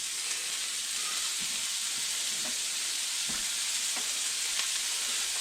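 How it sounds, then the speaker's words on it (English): Coot meat sizzles and fries steadily in a hot pan, with a loud, constant hiss, some stirring clicks and nobody talking. "now we're going to put in our coot"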